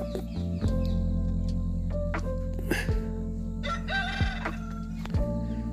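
A fighting cock crows loudly and close by, with several drawn-out calls over a constant low background hum and occasional clucks.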